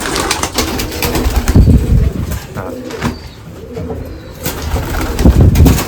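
Pigeons coo over and over in a breeding loft, with low rounded calls rising and falling in several bursts and occasional wing flutters close by.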